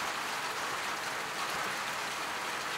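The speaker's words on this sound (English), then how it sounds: "now we got an absolute downpour out here" Heavy pouring rain during an outdoor downpour beside the Snake River in Washington, a steady dense hiss heard from under a small shelter, with no talking.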